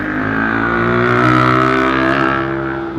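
A loud engine exhaust drones close by with a steady, throaty roar that swells a little in the middle and then eases back, with no voices over it.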